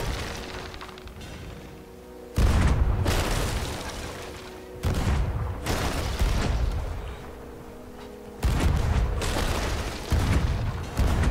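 Ship cannons in a Sea of Thieves naval battle fire four or five heavy booms, each a sudden loud blast followed by a rumbling decay, spaced a few seconds apart.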